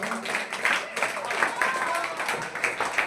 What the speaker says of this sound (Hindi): कंप्लीट रूप से, और जोरदार तालियां।